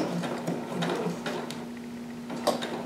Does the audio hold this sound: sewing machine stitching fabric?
yes